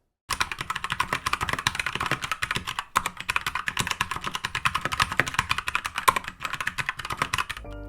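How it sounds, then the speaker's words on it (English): Steady, brisk typing on a Keychron K2 mechanical keyboard with brown switches, producing a dense run of soft, close clicks and clacks for several seconds without talk. "I'm using the Keychron brown switches, which have just a nice sound"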